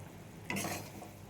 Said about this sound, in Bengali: এবার একটু নেড়ে চেড়ে দিলাম।